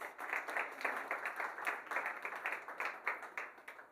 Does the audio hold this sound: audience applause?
yes